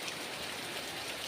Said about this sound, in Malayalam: ഇന്ന് വെള്ളമുള്ള മഴയാണ്. അങ്ങനെ എല്ലായിടത്തും വെള്ളം ഇങ്ങനെ ഒഴുകിക്കൊണ്ടിരിക്കുന്നുണ്ട്.